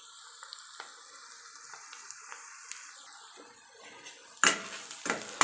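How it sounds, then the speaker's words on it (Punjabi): Tadka for stuffed capsicum frying in a pan, a soft continuous sizzle with faint clicks that becomes louder, sharp hissing bursts near the end, close by with no talking. "ਸਾਡਾ ਤੜਕਾ ਜਿਹੜਾ ਅੱਧ ਕੱਚਾ ਭੁੱਜ ਗਿਆ"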